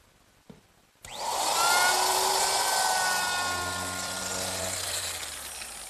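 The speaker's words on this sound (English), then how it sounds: "And I'll just use my router." A woodworking router rounds over the tenon ends of posts for a Mission-style sofa. It whines up sharply after a short click and holds a loud, steady, high-pitched cutting drone, with no talking.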